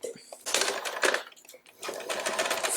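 Sewing machine running in short bursts as two pieces of textured fabric are sewn right sides together, a close, fast whirring rattle that stops briefly and starts again.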